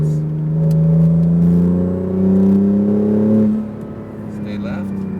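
An Acura NSX engine on a race track in Las Vegas, loud and close, pulling hard with a rising, strained pitch before easing off and settling into a lower drone.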